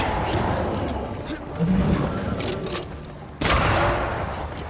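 Gunfire in the video game Banishers: rapid bursts of shots, with a sharp loud burst midway, layered over game sound and someone speaking.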